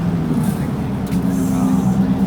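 A car passes on a downtown Toronto street near City Hall, heard as a brief, moderately loud swell of road noise over steady city traffic.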